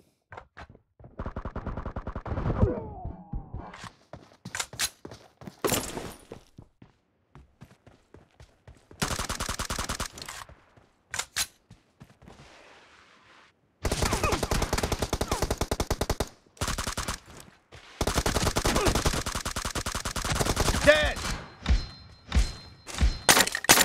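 M416 assault rifle fire in a video game, with long sustained automatic bursts alternating with short strings and single cracks. The shots are loud and close, broken by brief gaps.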